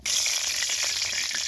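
Cumin seeds frying in hot oil give a steady, close crackling sizzle with sharp pops, unbroken by talk throughout.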